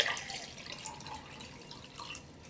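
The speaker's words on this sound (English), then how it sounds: "let's take a look and see what happens when we pour the water in" Water is poured onto sodium polyacrylate particles taken from a dissected diaper, giving a quiet, soft trickling and dripping.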